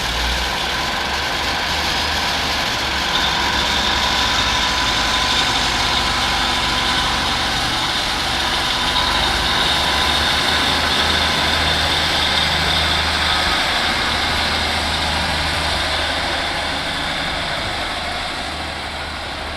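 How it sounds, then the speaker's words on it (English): A diesel train's engine throbs loud and close as it pulls away from Ipswich Station on the 16:17 service to Lowestoft, a steady heavy rumble that eases slightly toward the end. "we've got the 1617 service to Lowestoft now, about to depart from Ipswich Station"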